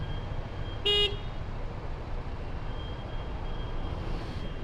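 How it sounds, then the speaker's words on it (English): A single short car horn toot sounds in traffic, clear against a constant low road rumble with no talking. "I'm honking at the people to the right of me just to let them know they got a green light."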